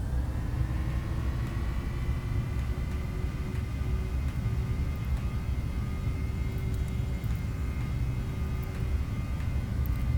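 Boeing 737 engines spooling at takeoff power in the FSX flight simulator game, a steady, close roaring rumble with a faint whine that holds constant throughout, no speech.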